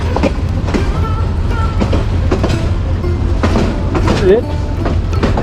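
A local train in Bangladesh runs at speed, steady low rumble and rhythmic clatter of wheels heard from inside, with brief squeaks and someone talking over it.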